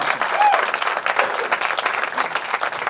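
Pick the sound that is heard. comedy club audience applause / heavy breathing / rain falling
comedy club audience applause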